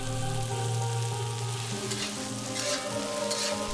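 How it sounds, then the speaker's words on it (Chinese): Loofah, bamboo shoots and edamame sizzle steadily in a hot wok over high heat, a dense continuous frying hiss with faint stirring, held under a soft musical backing throughout. "淋点芝麻油提香。"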